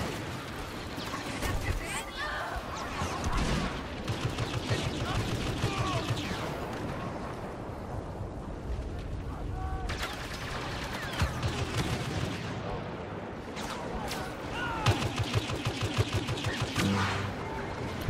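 Dense, continuous blaster and weapon fire from a Star Wars Battlefront match on PS4, rapid overlapping shots and bursts with booming impacts throughout, loud and close, with no voice over it.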